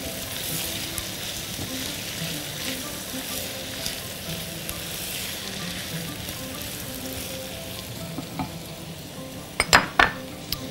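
Sweet corn sautéed in a hot pan gives a steady, close sizzle throughout, with faint stirring scrapes and a few sharp utensil clinks against the pan near the end.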